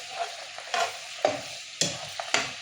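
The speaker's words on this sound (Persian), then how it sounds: "یک خورده فلفل و یک خورده دارچین، یک خورده هم فلفل سیاه اضافه میکنم و خوب به هم میزنم" Spiced meat seasoned with chili, cinnamon and black pepper sizzles in a pot while a utensil stirs it, giving five or six distinct scraping strokes over a quiet frying hiss.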